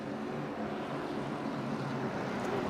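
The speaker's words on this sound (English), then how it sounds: "These cars actually do sound pretty good idling around this track." Late model stock cars idle around a race track at Southern National in a low, steady engine rumble that stays faint and distant throughout, with no voices.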